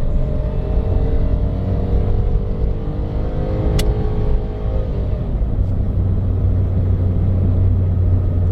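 A remapped Nissan March accelerates on the road, its engine note climbing steadily through a gear for several seconds, then easing off and settling into a lower steady drone beneath road rumble.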